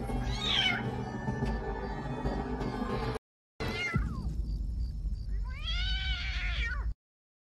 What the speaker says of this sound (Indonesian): Prajakta kemudian mengambil seekor kucing